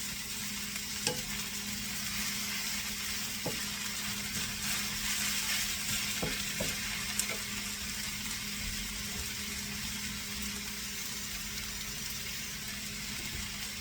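Zucchini cooks in a pan with a constant soft sizzle, broken by occasional light clinks and stirring taps from a utensil.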